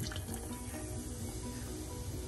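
Bubble Up soda being poured into a glass makes a continuous, close fizzing and splashing stream. It stays fairly quiet and steady for a couple of seconds, with no one speaking.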